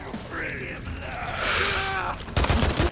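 Enemy shotgun fire in the open-world zombie video game Days Gone: a loud, dense burst of gunshots near the end, after game voices, ambient sound and creaking mechanisms.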